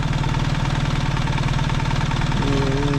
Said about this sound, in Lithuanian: garsas, tikrai variklio garsas yra šiek tiek kitoks